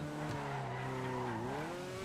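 A race car in a driving video game brakes hard and skids, its tires squealing in a steady, drawn-out screech with engine tone beneath, loud and continuous throughout.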